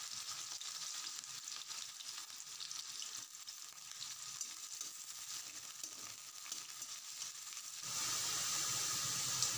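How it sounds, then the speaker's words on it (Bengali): Onions fry in a pan as a base for red lentil (masoor) dal, a faint steady sizzle that ends in a louder, brighter hiss near the finish. "এই পেঁয়াজটা ভাজা ভাজা হয়ে গেলে মুসুর ডাল, মানে তখন ওই মুসুর ডালটা সম্বাদ দিব"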